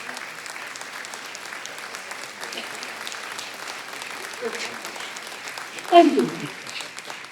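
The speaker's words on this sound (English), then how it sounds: "stand up and let us clap like crazy for you" Town meeting audience in Canterbury, New Hampshire, applauding community volunteers, a moderate steady patter of many hands from a hall, with a voice briefly speaking near the end.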